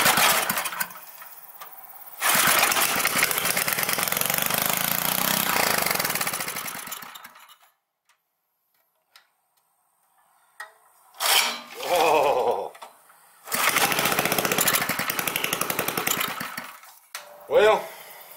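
The gasoline engine of a rototiller starts and runs in rough bursts: a long roar, then a quiet gap, then shorter sputtering runs that start and stop, loud and close, with a voice heard at times.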